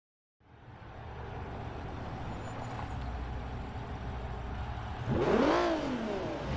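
Race cars in the Forza Motorsport 3 video game revving on the grid at the start of an AWD open race, a steady engine drone that swells into a rising rev near the end.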